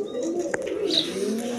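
Pigeon cooing near a hen sitting on eggs among pigeons kept for sale in Bangladesh, a low, soft, continuous coo close by with a light background hum and no talk.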